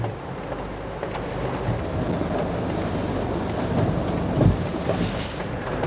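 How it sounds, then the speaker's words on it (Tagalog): A steady, dense wash of heavy rain with a low rumbling undertone, holding constant throughout and swelling slightly near the end. "Lalong lumakas ang ulan."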